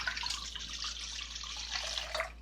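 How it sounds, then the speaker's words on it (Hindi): Water being poured into a bowl for focaccia dough, a steady close splashing and trickling stream lasting a couple of seconds, fairly quiet, with no talking. "ये सारा पानी जा रहा है इसमें"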